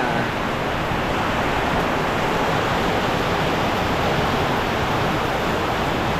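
Typhoon wind and heavy rain roar as a dense, steady, loud wash of noise, constant throughout with no pauses.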